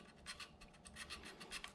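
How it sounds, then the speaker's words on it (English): Folded 1000-grit sandpaper rasps between the ignition points of a Honda CB750, a faint close-up series of quick rhythmic scratching strokes. "That way you're kind of evenly sanding both sides."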